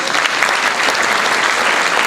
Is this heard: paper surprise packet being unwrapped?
no